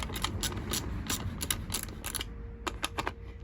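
Ratchet tightening nuts on the seat mount of a 1983 Honda motorcycle, rapid close clicking in quick strokes over a steady background rumble, easing off near the end.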